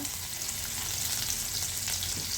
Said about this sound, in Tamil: தண்டு அதுவும் இந்த எண்ணெயில் போட்டுக்கோங்க